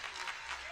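Faint, brief patter of applause from a crowd before a hip-hop performance, soft and distant with no voices over it.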